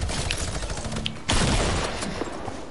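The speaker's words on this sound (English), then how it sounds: "Am I getting shot at?" Rapid bursts of gunfire ring out in a dense, continuous volley, with a louder burst of shots partway through.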